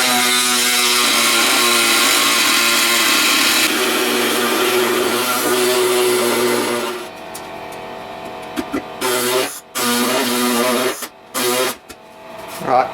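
Power tool cutting through the belt cover of a drill press, a loud steady whine for about seven seconds that then stops, followed by short bursts of cutting and handling noise.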